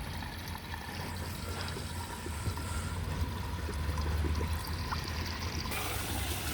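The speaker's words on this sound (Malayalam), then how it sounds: "വെള്ളം അതാ കയറി വരുന്നു, കണ്ടില്ലേ?" Water flows steadily through a homemade aquarium filter built from an onion sack, a faint, even trickling hiss that continues unbroken throughout, with no voices.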